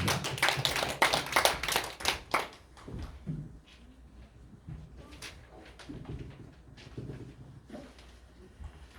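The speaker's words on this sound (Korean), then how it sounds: "박수로 맞이하겠습니다." Members of a Sunday church service clap in welcome with a short, loud burst of hand claps that stops after about two seconds. Scattered taps, small room noises and some talking follow.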